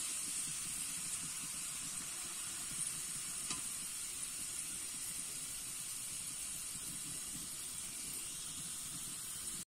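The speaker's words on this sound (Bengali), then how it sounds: "ভাজা হয়ে গেছে বলে কিন্তু উপর দিয়ে সব ভেসে উঠেছে" A faint, even sizzle of lentils frying in oil hisses steadily for several seconds, with no talking.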